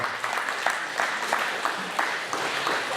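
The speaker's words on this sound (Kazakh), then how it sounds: "Осындай тілекке бауырлар тағы да шапалақ береді" An audience at a wedding celebration claps steadily, a close, dense patter of many hands lasting the full few seconds, with a few voices faintly mixed in.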